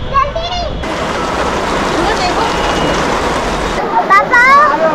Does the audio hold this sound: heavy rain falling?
yes